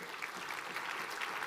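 A church congregation applauds at a Christmas service, a steady wash of many hands clapping together at moderate volume for a brief stretch.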